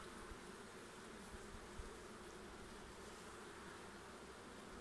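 A dense, steady buzzing of many honey bees close by at a crowded hive, a constant droning hum with no pauses or voices.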